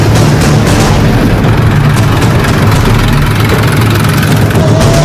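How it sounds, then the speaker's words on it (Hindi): Tractor engines rumble loudly and continuously on a road during a farmers' protest rally in western Uttar Pradesh, a dense low idling drone with no pauses. "ट्रैक्टर चल पड़े हैं"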